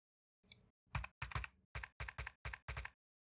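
A computer keyboard is used to type a layout name, producing about nine distinct, close keystrokes in a quick, slightly uneven rhythm against silence.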